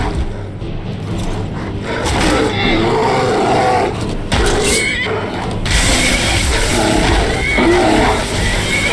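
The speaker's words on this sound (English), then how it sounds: "It's cool that the horse fights" A horse neighing and whinnying as it fights a polar bear in Skyrim, with roaring and scuffling mixed into loud, busy combat noise throughout.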